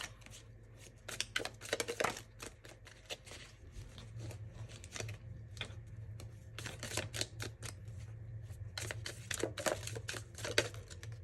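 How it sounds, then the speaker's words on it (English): Tea leaf fortune cards get shuffled close by and fairly softly, in bursts of quick riffling and flicking with short pauses between them. "I'm going to get some final tea leaf fortune cards out for you."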